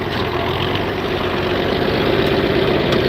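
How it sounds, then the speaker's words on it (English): A John Deere 4020 farm tractor idles with a steady, loud, low diesel rumble and even knocking, heard close and alone with no talk over it. "This is probably the most common tractor in the United States, 40-20 John Deere."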